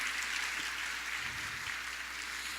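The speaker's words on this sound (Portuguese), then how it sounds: "Então, palma para nós, né, gente?" Faint, distant clapping from a crowd at a holistic conference lecture in Brazil, a steady wash of applause that holds evenly throughout.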